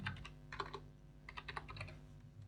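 Computer keyboard typing in bursts of quick, light keystrokes with short pauses between words, close by and steady throughout, no talking.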